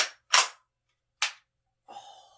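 A WellFire AK74 gas blowback airsoft rifle fires three sharp, snappy cracks with short gaps between them, followed by a brief metallic rattle, close and alone against silence.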